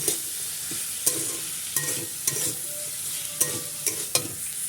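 Potatoes and vegetable stalks frying in fish oil, a steady crackling sizzle with several sharp stirring clacks spread through it, close and alone without talk.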